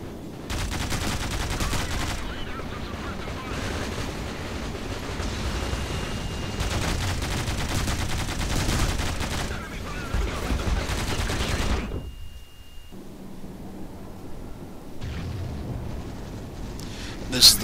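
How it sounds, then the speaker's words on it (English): Rapid automatic gunfire bursts from a machine gun in the first-person shooter Shattered Horizon, long sustained volleys with a short pause, then quieter bursts later. "Here I switch to the machine gun."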